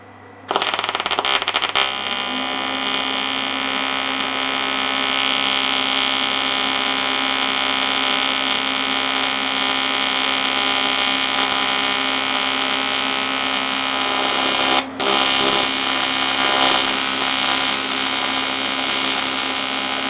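A TIG welder arc on dirty aluminium during a repair of a steady rest for an SNNC 360 P2, a loud steady buzzing hum for nearly twenty seconds with one brief break midway, close to the torch.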